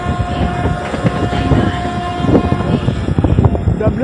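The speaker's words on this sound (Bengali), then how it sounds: "মানে কি এক্সপ্রেস আসছে দেখি।" An express train approaches a station near a local line between Santragachi and Uluberia, a steady broadband rumble with tonal hum and rising clatter, fairly loud and close throughout.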